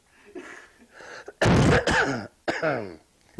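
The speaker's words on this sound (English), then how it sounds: "I'm going to cough." A loud, harsh dry-throat cough bursts out, followed by a second shorter one, close to the listener after a few quiet throat sounds.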